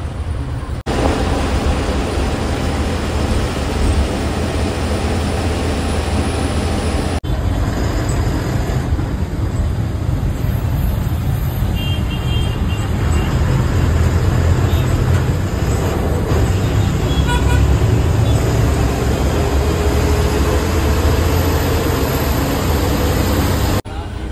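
A Borivali to Kudal bus drives through traffic, a loud, constant low engine and road rumble steady throughout, with faint voices talking inside.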